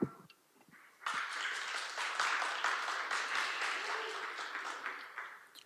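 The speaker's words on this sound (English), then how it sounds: "Let's give a round of applause, sir." Audience applause at a blockchain conference stage in Taipei, starting abruptly after a second of quiet and continuing as a dense, steady wash of many hands before tapering off at the end.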